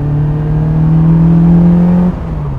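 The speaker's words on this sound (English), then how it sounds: "because this car has got longer gearing and it is naturally aspirated, it means you can really rev it out" A Caterham Super Seven with a naturally aspirated 2-litre Duratec engine revving hard, a loud, steady engine note climbing in pitch before dropping sharply as the throttle lifts near the end.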